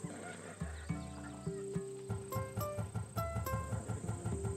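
A Macedonian warhorse in Assassin's Creed Odyssey whinnies amid game audio, with a rising, layered neigh over a busy backdrop of music and repeated clopping or percussive hits throughout.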